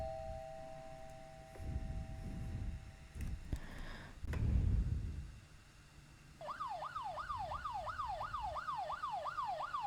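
A wailing police siren starts partway through, rising and falling in a steady repeating cycle, fairly loud and close after a stretch of low rumbling and clatter.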